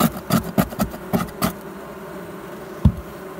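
Bees buzzing in an old, long-untouched basement workshop, a run of short loud buzzing bursts in quick succession close by, then a quieter hum with one more sharp buzz near the end.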